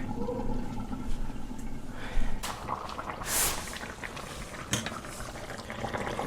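Soft, irregular bubbling and gurgling of a simmering pot of Jamaican curry chicken, with occasional pops and a faint metallic clink, fairly close.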